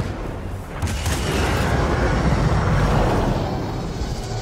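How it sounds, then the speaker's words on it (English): Big cannons fire in the video game Star Wars Jedi: Fallen Order, a dense, sustained rumbling barrage of deep booms and blasts that fills the whole stretch loudly, with no talk over it. "Oh, that's the big cannons."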